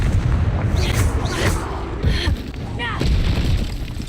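Confringo spell explosions in the video game Hogwarts Legacy, heard as a few heavy booms and bursts with whooshing spell effects layered over a steady loud game soundscape.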